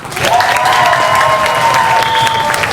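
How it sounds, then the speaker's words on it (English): An improv comedy theater audience applauding and cheering for a team during a match, a loud, dense burst of clapping with some shouts and whistles, sustained steadily throughout. "Applaud loudly for both teams, but loudlier for the team you want to win the next 5 points."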